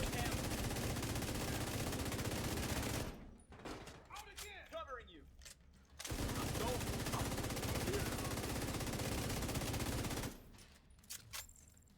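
Automatic weapon fire in the video game The Division 2, loud sustained bursts with a pause in the middle where a few short sounds and a voice come through, then heavy firing resumes before tailing off into scattered shots.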